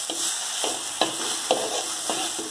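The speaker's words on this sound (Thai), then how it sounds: "แล้วก็ผัดต่อไปจ้า" Thai eggplant is stir-fried in a pan with pounded paste, a continuous close sizzle broken by rhythmic scraping strokes of a spatula about twice a second.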